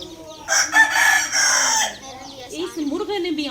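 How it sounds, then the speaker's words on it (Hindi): A rooster crows loudly and close by in a village, one long call followed by shorter clucking notes. "सुबह से कुकड़ू को किए जा रहा है"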